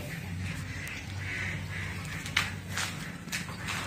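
Ducks quack outdoors beside rice fields, a faint, distant chorus of calls scattered over steady low background noise.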